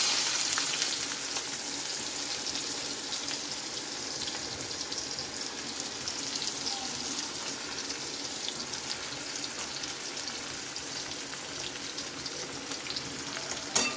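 Chopped onions frying in hot oil with black cumin (kalo jire), a dense, steady hiss of sizzling close by, continuous and fairly even throughout with no voices.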